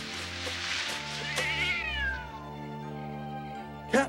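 A cat gives a long, drawn-out meow with a rising and falling pitch, loud and close, followed by a brief sharp sound at the end against a tonal background.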